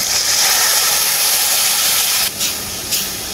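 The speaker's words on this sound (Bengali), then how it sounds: "এখন আমি যে গুঁড়ো মশলাটা ভিজিয়ে রেখেছিলাম জলে, সেই মশলাটা দিয়ে দেব।" Ground spice paste soaked in water hits a hot pan for lau chingri, a loud, steady broadband sizzle and hiss close up, briefly dipping twice near the end as the paste is stirred.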